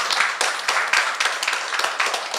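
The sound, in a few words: congregation clapping in church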